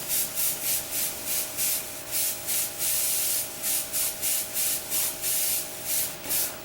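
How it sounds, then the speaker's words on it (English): Airbrush blowback is forced into a tissue while the brush is cleaned with Windex. It makes rapid, regular pulses of close, loud airy hissing over a steady compressor hum. "Taking a tissue, we're going to go ahead and place it on the end. Get some blowback in there."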